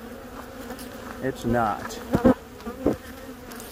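Honeybees hum steadily in a winter hive with empty comb. The buzzing stays close and continuous, with a few brief spoken words over it.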